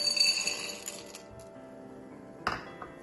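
Chocolate chips drop into a glass mixing bowl with a short rattling patter, then a few light, sharp clinks against the glass in a quiet room.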